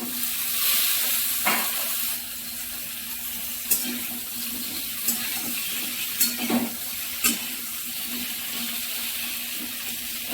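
Vegetables frying in oil with bay leaves and dried red chillies give a steady, close hiss of sizzling, with several sharp clinks and scrapes of stirring against the pan and no talking.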